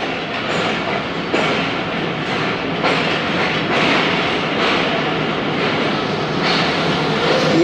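Jaffar Express train arriving at platform 5, a loud continuous rumble of railcars with periodic clickety-clack wheel beats rolling past close by, no voices.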